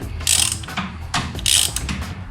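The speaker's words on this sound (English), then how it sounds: "Tightening this side." A ratchet tightens a shifter peg on a Harley-Davidson motorcycle, giving close, loud bursts of rapid metallic clicking in several short strokes with brief pauses between them, and no voices.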